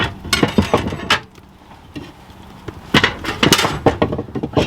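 A wood log is set into a hot wood-fired pizza oven fitted with a log riser, giving loud wooden knocks, clunks and scraping clatter in bursts with a brief pause in between.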